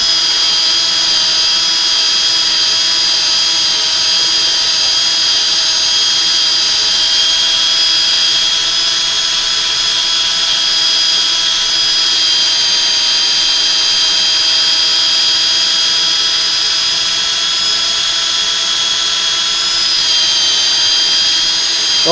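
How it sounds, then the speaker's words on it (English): Sanding a small chamfer onto a sharp lacquered edge with 240 grit, a steady high whine from a power sander running continuously and evenly throughout, loud and close, with no talking. "I'm going to use the 240 grit just to put a little chamfer on there"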